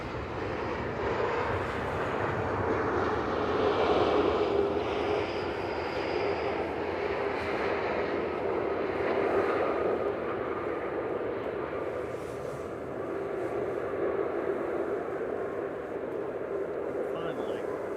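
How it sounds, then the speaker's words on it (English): Airbus A380 taxiing at Manchester Airport, a steady broadband jet engine roar holding at a constant level throughout, moderately distant, with faint voices underneath. "So we watch the A380 taxi."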